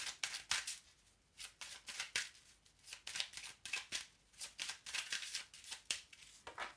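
Oracle cards being shuffled by hand for a reading, a steady series of soft riffling slaps repeating at an even rhythm, close and fairly quiet.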